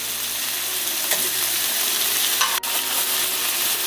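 Seafood drops into a hot pan of cooking tomatoes for seafood pasta, giving a steady loud sizzle with scraping and stirring throughout and a brief clatter near the end.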